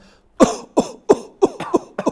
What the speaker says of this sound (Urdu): آرٹیفیشیل خود نقلی کھانسی کرنی ہے